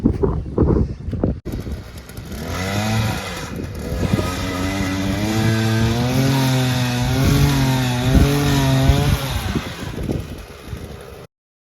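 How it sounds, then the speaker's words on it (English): A gas-powered auger drills into the ground to dig fence-post holes, its engine revving and bogging with a steady droning roar that rises and wavers for several seconds before cutting off. "we are using our auger to dig some holes so that we can put in some fence posts"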